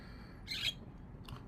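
A pet bird gives a sharp, bright call close by, then a shorter, fainter chirp about a second later, against quiet room noise.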